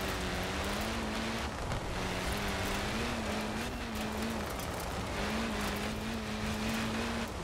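Engine of a Mitsubishi Evo 6 in Forza Horizon 4, a loud sustained drone held near steady revs with small pitch shifts and brief dips, close and unbroken, no talking.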